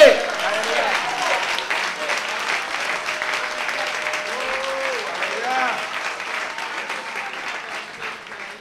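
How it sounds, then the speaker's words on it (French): Congregation applause during a Sunday church service, a steady wash of clapping lasting throughout, with a voice and musical tones sounding faintly beneath it. "Applaudis mon Dieu."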